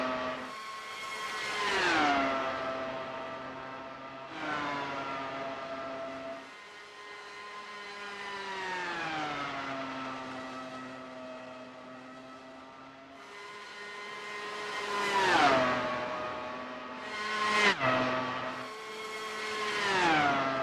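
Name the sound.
Dallara race cars speeding around Dover International Speedway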